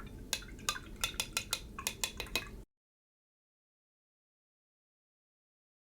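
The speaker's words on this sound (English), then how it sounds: "I like to swipe my brush off on the edges as well" A paintbrush is swiped and tapped against the edges of a watercolour palette, giving about a dozen sharp, close clicks over two and a half seconds before silence.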